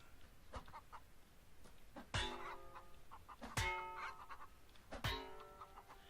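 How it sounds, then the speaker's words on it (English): Chicken clucking in the video game Edengrad, with three sharp, loud metallic-sounding hits ringing out over a low background of game ambience and a few softer clicks. "That chicken sounds like I'm hitting a tin can."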